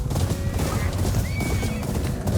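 Wild horses whinny and gallop in the video game Ghost of Yotei, with dense, loud hoofbeats running throughout and a couple of high neighs rising above them.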